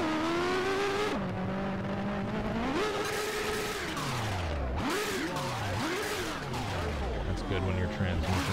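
Race car in a NASCAR racing video game, its engine and transmission droning and whining through rising and falling pitch sweeps, loud and continuous, with voices talking over it.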